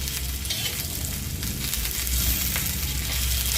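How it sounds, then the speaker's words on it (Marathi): Green chillies fry in a pan with a dense, continuous close sizzle, crackling and spitting steadily with light stirring noises and no voices over it. "आपण या 4 पीस आहेत ह्या भाजून घेते मी मस्त पैकी।"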